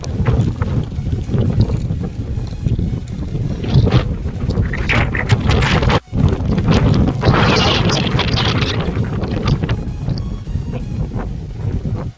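Strong wind at Ireland's Cliffs of Moher buffets the microphone in loud, continuous roaring gusts, with a brief dropout midway; no voices.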